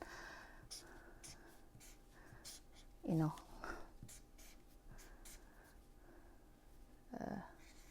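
A pen scratches across paper while drawing a sign, giving faint, intermittent strokes in a quiet room, with two brief murmured vocal sounds.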